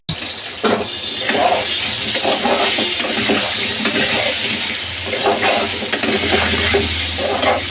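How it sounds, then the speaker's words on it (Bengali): Potatoes frying in hot oil with turmeric powder and salt, a loud steady sizzling hiss filling the whole stretch with faint clatter of stirring. "একটু হলুদ গুঁড়ো আর একটু নুন দিয়ে আলুগুলো ভালো করে ভেজে নেব"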